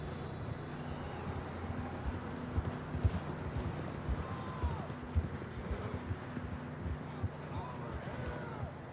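Horses gallop in the video game Red Dead Redemption 2, a steady pounding of hooves carried under continuous wind and outdoor ambience across the whole stretch.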